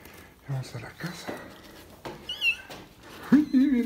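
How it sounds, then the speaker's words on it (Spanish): A house cat gives a few short meows amid household shuffling and a person's voice, followed by a longer, louder wavering meow near the end. "Y viene maullando."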